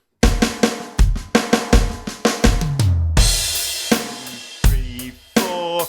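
A drum kit plays an accented fill that moves around the toms: sharp, loud hits in a quick pattern, followed by crashing cymbal wash and a final accented hit, close and dry with no voice.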